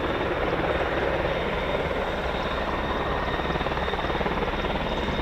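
An aircraft arriving at the RAF Fairford air show, a loud, steady engine and rotor roar that holds constant throughout, close by and alone.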